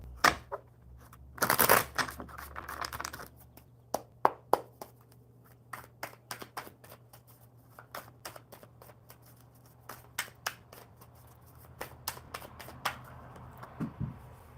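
A tarot deck shuffled by hand during a live reading: an opening rush of riffling, then a long run of light card taps and flicks, close and clear, with no voices.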